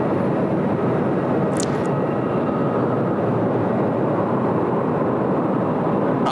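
A Qantas airliner takes off from runway 34 left at Sydney Airport, a loud, steady broadband engine roar holding for several seconds without a break.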